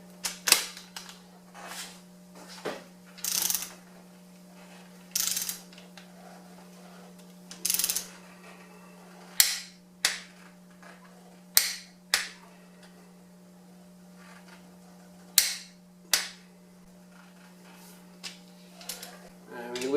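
Sharp clicks from a torque wrench retorquing ARP head studs on a Toyota 3S-GTE/5S-GTE engine, a dozen or so separate snaps spaced irregularly over a steady background hum, close and fairly crisp.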